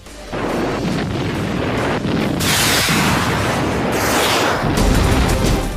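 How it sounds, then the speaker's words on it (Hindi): Continuous heavy rumbling rocket blasts and roaring booms in Kiryat Shmona, Israel, loud and sustained, with a sharp burst midway and a surge of rushing noise toward the end. "एक घंटे के भीतर 65 रॉकेट धमाके।"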